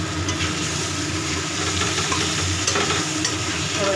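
Pointed gourd (potol) sizzles steadily as it fries in oil in a pan, a dense continuous crackle held at an even level with faint stirring throughout and no talk.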